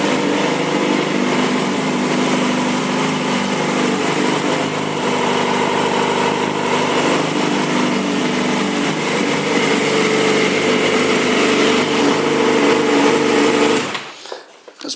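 A red 2007 Yamaha YZF-R6 sport motorcycle idles steadily through its exhaust pipe, a loud close buzzing drone that holds for most of the stretch and then cuts off abruptly near the end.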